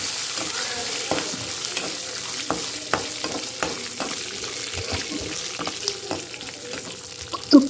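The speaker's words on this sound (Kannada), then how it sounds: "ಗೋಡಂಬಿ ಚೆನ್ನಾಗಿ ಫ್ರೈ ಮಾಡಿ" Cashews frying in ghee or oil, a close steady sizzle broken by regular clicks and scrapes of stirring, ending in a louder clatter.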